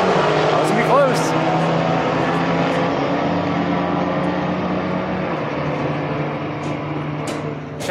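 A Dodge Challenger and an Audi drag racing on a quarter-mile strip, engines roaring loudly at first, then fading into a sustained distant drone, with scattered crowd noise and clicks throughout.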